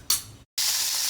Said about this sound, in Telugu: ఇక్కడ 1 టీ స్పూన్ నూనెలో 1 టీ స్పూన్ ఆవాలు వేసుకున్నాను